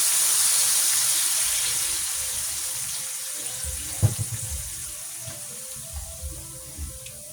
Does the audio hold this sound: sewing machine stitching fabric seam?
no